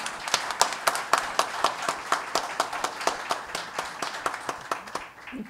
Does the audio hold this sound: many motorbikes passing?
no